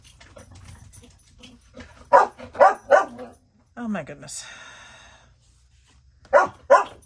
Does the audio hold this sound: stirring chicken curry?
no